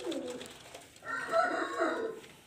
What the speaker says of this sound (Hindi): ये कबूतर जो गुड़क रहा था